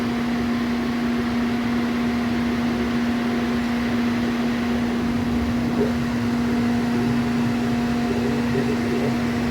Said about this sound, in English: So it's going to go around the machine multiple times and heat up the motors.